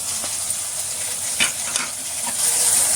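Chopped tomato hits a hot pan with ginger for oats upma, sending up a steady bright sizzle with a few stirring scrapes that swell slightly toward the end.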